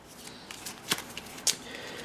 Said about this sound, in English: you deal 8 after shuffling your action cards